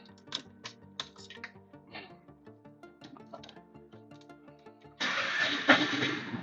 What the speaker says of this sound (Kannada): ಓಕೆ, ಗಾಡಿ ಕೂಡ ಸ್ಟಾರ್ಟ್ ಆಗಿದೆ.